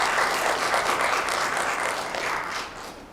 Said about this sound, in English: Legal advocate Dervane, please give her a hand of applause.